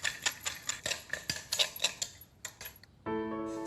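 A spoon clinks and taps against a bowl in a quick, irregular rhythm while saffron, lemon juice, salt and pepper are mixed until smooth. The clinks are close and crisp, followed by a brief sustained tone at the end.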